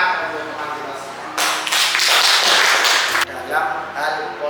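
A classroom bursts into applause for about two seconds, a dense burst of hand clapping from many people nearby, with talking before and after.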